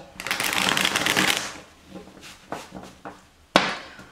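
Tarot cards are shuffled in a quick riffle lasting about a second and a half, followed by a few soft taps and sharp card snaps, close and fairly quiet.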